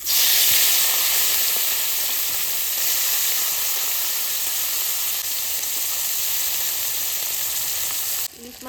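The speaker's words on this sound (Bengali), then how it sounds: "কড়াই গরম হয়ে গেছে এবার তেল দিয়ে দেবো" Oil sizzling loudly and continuously in a hot wok for frying hilsa fish, a dense, close hiss that holds steady throughout before cutting off near the end.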